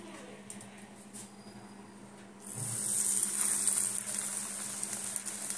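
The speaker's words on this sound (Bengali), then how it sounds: "তেল চাপিয়েছি এখানে, তেলটা আমার গরমও হয়ে গেছে। চলো এবারে দিতে থাকি আমি।" Banana flower cutlets (mocha chop) drop into hot oil, and a bright sizzle swells suddenly midway and keeps crackling steadily and up close after a quieter start.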